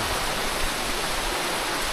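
Heavy monsoon rain and rough waves during bad habagat weather, a dense, loud, continuous roar of rushing water and downpour with no break and no voices.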